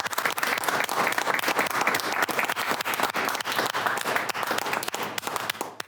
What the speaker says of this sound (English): Please give a hand of applause to Professor.